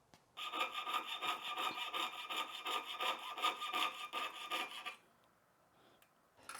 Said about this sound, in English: to cut this I'm just going to use a normal saw, bench pen, make sure to lubricate your blade, and then I'll just cut this off